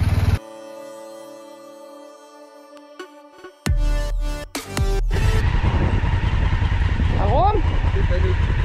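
A travel enduro motorcycle on a Morocco trip pulls away, its engine rising to a steady loud drone after a few brief electronic tones and clicks, with people talking over it.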